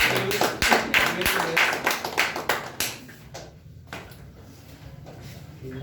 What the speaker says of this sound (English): clap for Ayush